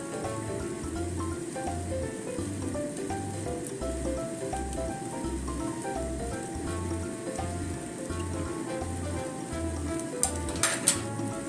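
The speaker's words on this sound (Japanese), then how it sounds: "これをねちょっと蓋してね蒸し焼きみたいにします" A tuna and tomato egg omelet steam-fries under a lid in a pan, giving a soft, steady sizzle over low heat. Background music with a regular beat plays over it, and a few light clinks come near the end.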